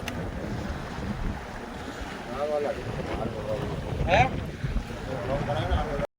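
A fishing boat being towed by another boat through open sea under steady wind and wave noise, with a motor droning and a couple of brief tonal whines.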